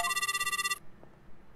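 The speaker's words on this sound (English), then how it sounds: "Find the phone number and contact the sheriff." A telephone rings while calling the sheriff in the video game Vampire Mansion: a bright, electronic, rapidly pulsing ring lasting under a second, then near silence.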